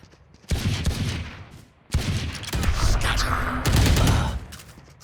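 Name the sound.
gunfire from the video game Valorant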